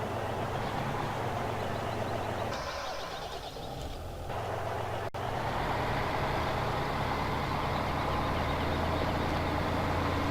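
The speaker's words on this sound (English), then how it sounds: "This is a modified harvester." Modified harvester with a 25,000 capacity driving in a farming video game, a steady loud engine drone with low rumble running throughout, briefly dipping midway before resuming at full strength.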